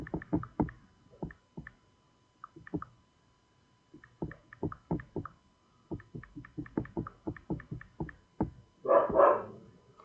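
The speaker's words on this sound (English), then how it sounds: "prepare for the dogs to start barking any minute" Dogs bark in quick, sharp volleys, some barks clustered rapidly and others spaced apart, ending with a rougher, noisier burst.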